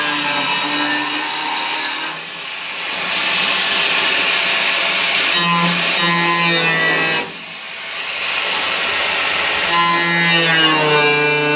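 A power saw rips a half inch off a two-inch board during cab body work, giving a loud, steady whining cut that dips briefly twice as the blade eases off between passes.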